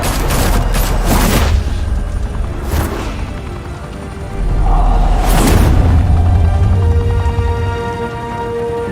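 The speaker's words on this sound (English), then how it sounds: "Open fire!" Gunfire and explosions in a Batman video game: loud bursts of shots and booming impacts, then a lull and a heavier rumbling blast with a whooshing layer.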